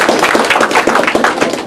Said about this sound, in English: I'd like to give him a nice round of applause for being here today.